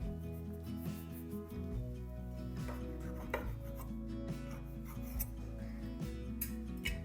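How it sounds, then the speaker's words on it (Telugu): A knife cuts through slices of bread down the middle, with repeated close sawing and chopping strokes against a board over steady background music. "ఇప్పుడు వీటిని మధ్యలోకి కట్ చేద్దాం"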